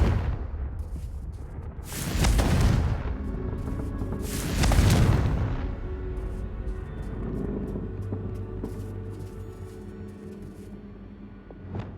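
A Confringo fire spell explodes in Hogwarts Legacy, two heavy booming blasts a couple of seconds apart followed by a long rumbling, crackling tail of debris and lingering fire with no talk.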